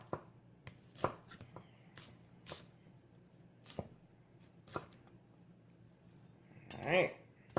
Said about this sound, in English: let me just give my onion a finish chop